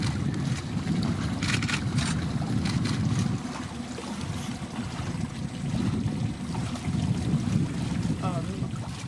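Boat ride across a reservoir in Shendurney forest, with a steady low engine drone and water wash running throughout, plus wind buffeting the microphone.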